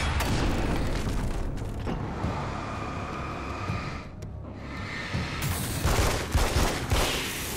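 Rapid continuous gunfire in Alan Wake's American Nightmare, a dense, loud barrage of shots and booms filling the whole stretch with little pause.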